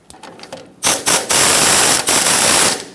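Ratchet snugging shock absorber bolts on a 1995–2004 Toyota Tacoma, a few light clicks followed by loud, fast ratcheting bursts, close and harsh, with brief pauses between strokes.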